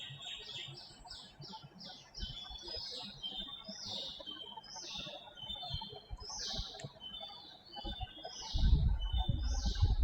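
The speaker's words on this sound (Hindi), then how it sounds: "सही है आपके। कोयल वोयल।" A koel calls repeatedly in the background outdoors, a run of bright, rising whistled notes repeated in a steady series at moderate distance, with scattered low noises underneath and a rumbling thud near the end.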